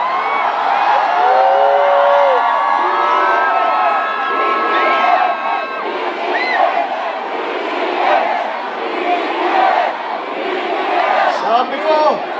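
A large crowd at a political rally in Cebu City shouts, whoops and cheers loudly and continuously, with high excited voices rising and falling throughout.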